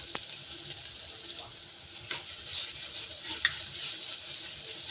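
A paste of green chili and ginger fries in a nonstick pan with a soft, steady sizzle. A few faint clinks and stirring sounds come through, and the sound stays close and fairly quiet.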